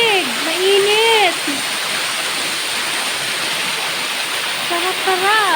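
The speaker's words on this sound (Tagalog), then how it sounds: "Ayan yung rock fountain." Steady rushing water pours continuously over a rock fountain, with a voice talking briefly at the start and again near the end.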